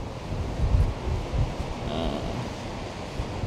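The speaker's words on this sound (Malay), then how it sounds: "Ini suasana di Cape Town. Berangin." Wind blows outdoors in Cape Town as a steady, rumbling roar with gusty low buffeting against the microphone, continuous throughout with no clear voices.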